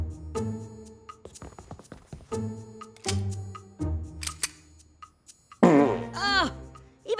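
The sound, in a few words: fart sound effect in adult cartoon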